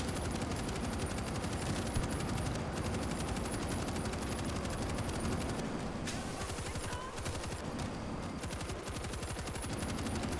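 Mounted turret machine gun in World War Z, firing a long, dense, continuous stream of rapid shots, loud and steady for the whole stretch with battle noise around it.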